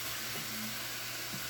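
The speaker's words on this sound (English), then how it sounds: "So I'm actually going to put in my stock now." Stock poured into a hot soup pot of sizzling minestrone vegetables, a steady loud hiss and sizzle filling the short moment with a faint low rumble underneath.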